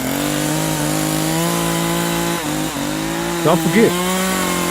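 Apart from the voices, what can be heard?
chainsaw running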